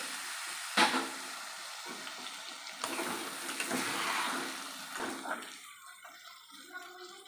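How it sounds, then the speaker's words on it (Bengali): Rinse water from ground poppy seed, cashew and rice paste pours into a pan for a potato curry, giving a splashing, hissing gush with a few clanks, fading toward the end. "পোস্ত কাজু বাদাম আর চাল বাবুসটা যে বেটেছিলাম তার এই ধোয়া জলটা দেবো"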